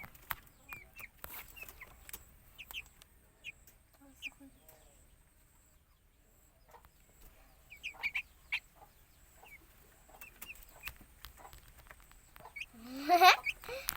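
Pet chicks peep softly, scattered thin chirps spread over a quiet stretch. A louder, rising call comes near the end, with faint rustling around it.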